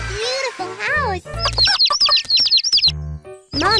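A cartoon hen in a children's game clucks and chirps in short, bright, playful bursts, mixed with cheerful synthetic sound effects and a child-like voice talking.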